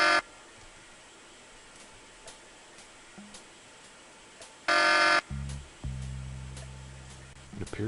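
An apartment alarm in Tex Murphy: Pandora Directive sounds as a loud, harsh buzzing burst, then a lower droning tone continues after a brief pause, with quiet room tone around it.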